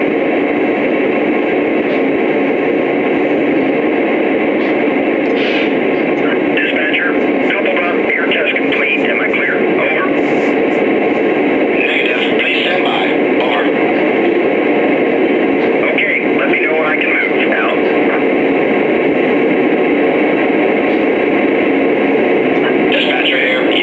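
A constant, loud whirring hum of a Lionel model train pulling a Conrail 60ft double door box car on its track, with faint rattling and clicking over it.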